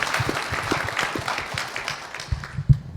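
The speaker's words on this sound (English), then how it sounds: "round of applause" A live stage audience breaks into a round of applause, dense clapping that fills the room at a steady level and then trails off with a few louder final claps.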